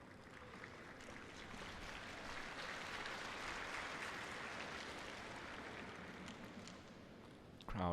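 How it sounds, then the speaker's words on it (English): Spectators at the 2023 Macau Tennis Masters women's final, Daria Kasatkina against Wang Xinyu, give sustained applause and a cheer: a broad, even roar of clapping heard from a distance, fairly faint, with no voices over it. "Let's listen to that roar of approval from the spectators here in this venue for Wang XINYU"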